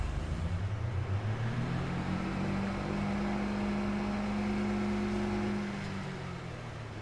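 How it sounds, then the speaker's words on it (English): A farm vehicle reverses in the Farming Simulator 22 video game. A steady engine drone carries a sustained tonal whine that rises, holds and then fades, loud and close throughout. "It'll make a horrendous noise when it reverses."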